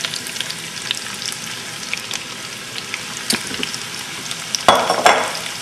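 Thinly sliced onions, six or seven large ones, dropped into hot frothy butter and olive oil for French onion soup, a continuous close sizzle with scattered pops and a louder crackling burst near the end.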